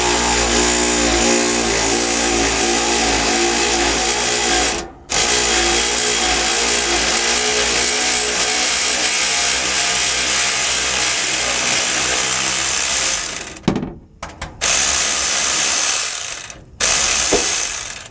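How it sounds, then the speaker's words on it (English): A power drill with a socket loosens a bolt on a 2003 Ford E-350 van, whirring steadily for several seconds, with brief pauses and restarts toward the end, loud and close. "I will use my drill faster to help me loosen this"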